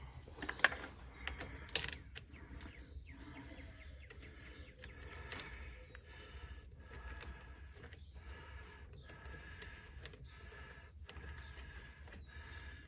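A wrench ratchets while a part on a Bobcat S300 is being tightened, giving faint mechanical clicking and metallic clatter, with a few sharper clicks near the start, over low background noise.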